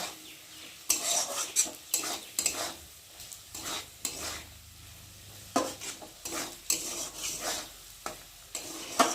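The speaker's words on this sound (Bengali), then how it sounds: "দেখো হলুদ নুন দিয়ে আলুটাকে ভালো করে একটু ভেজে নিয়েছি" Potatoes frying in a pan with turmeric and salt, stirred with a utensil in bursts of scraping and clinking over a gentle sizzle, close and fairly quiet.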